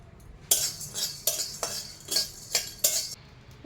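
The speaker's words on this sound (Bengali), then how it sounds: "গরম মশলাটা হালকা নেড়ে চেড়ে এবার দেবো গোটা জিরে মরিচ আর গোটা ধনে।" Whole cumin, dried chilli and coriander being stirred in a pan for garam masala, heard as about six sharp scraping clinks of a utensil against metal in a steady rhythm, close and clear with no voices.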